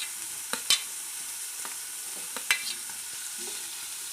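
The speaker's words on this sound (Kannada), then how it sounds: "ಫ್ರೈ ಮಾಡ್ತೀನಿ ನೆಕ್ಸ್ಟ್ ಹಸಿರು ಮೆಣಸಿನ್ಕಾಯಿ ಹಾಕ್ತಾ ಇದ್ದೀನಿ" Green chillies added to onions already frying in a pan for kushka rice, a faint continuous sizzle with a few brief stirring taps and scrapes, no voices.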